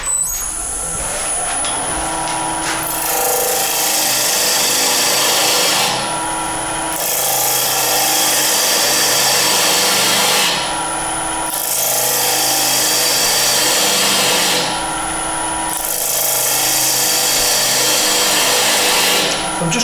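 A lathe tool trims a natural-edge wooden vase in repeated passes, a harsh hissing scrape that rises for a few seconds, pauses briefly, then resumes, close and loud.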